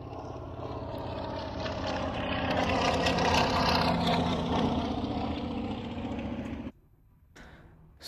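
A biplane's piston engine runs with a steady, throbbing drone that rises slightly in the middle, then stops suddenly near the end, followed by a faint low rumble.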